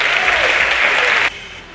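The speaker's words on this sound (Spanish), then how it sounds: "¡Vamos! ¡Aplausos!" Audience at the Natural Classic 2023 bodybuilding event breaking into loud, dense applause that holds strong, then cuts off abruptly to a quiet room tone.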